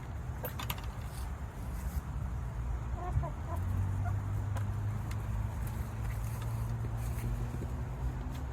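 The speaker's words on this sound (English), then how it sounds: "go see if the chickens like their snack" Backyard chickens cluck softly and steadily close by, with a few brief rustles and clinks in the background.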